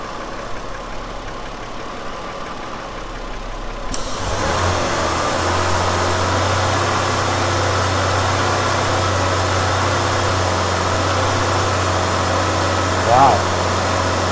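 A Ford Escape engine with a P1506 high-idle fault runs with its idle air control valve unplugged, a steady mid-pitched hum holding up close and even after starting abruptly, with a brief blip near the end.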